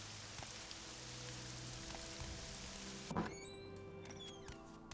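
Rain falling steadily at a tower in the game Morrowind, a soft continuous patter with a few brief crackles near the end, quiet and alone.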